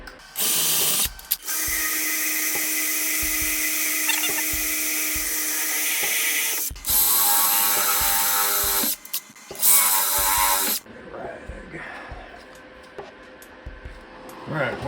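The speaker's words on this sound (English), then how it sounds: "So I just change drills and step it up until I get to 1/4." A power drill bores a quarter-inch hole into a Jazz bass body, stepping up through bit sizes: loud, close whining bursts with short pauses between them, then quieter handling noise as the work finishes.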